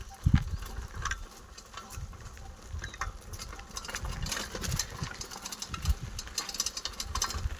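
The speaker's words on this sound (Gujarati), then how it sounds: "આ છે આપણું આઈસર ટ્રેક્ટર" An Eicher tractor engine runs nearby with a steady rhythmic chugging and uneven knocks, loud and continuous outdoors with no voices over it.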